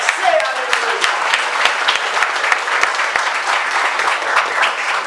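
Congregation in a church service applauding together, a steady sustained wash of claps with a spoken voice audible over it.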